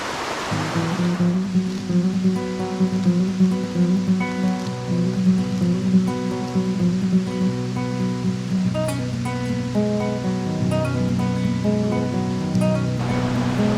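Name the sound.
two mountain creeks merging, rushing water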